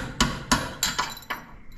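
Hammer and punch driving the shocks out of a 1976 Cadillac Eldorado during a teardown: about five sharp, close metallic strikes at uneven intervals, each ringing briefly before the next blow.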